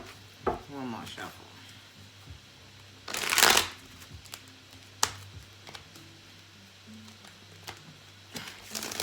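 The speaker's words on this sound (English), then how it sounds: "One more shuffle." A deck of tarot cards is shuffled in several short riffling bursts, with one louder rush of cards in the middle and light taps between, close up in a quiet room.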